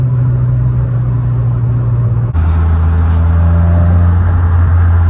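Renault Clio 16S driving, a steady low engine drone with a shift in pitch partway through as the car changes gear or throttle; the exhaust pops are not clearly distinct within the continuous rumble.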